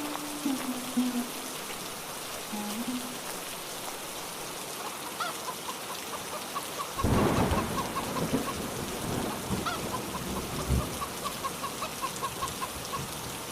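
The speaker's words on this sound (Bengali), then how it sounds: "এই যা, বৃষ্টি যে শুরু হয়ে গেল" Rain begins falling outdoors as a loud rumble of thunder rolls in partway through, followed by a steady patter; a rooster or hen clucks faintly early on, and no one speaks.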